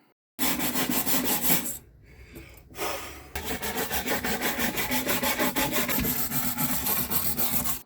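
A jigsaw cuts through plywood while a speedbag platform is built, giving a loud, steady rasping buzz with a pulsing rhythm. The blade stops briefly, restarts, then runs on continuously up close.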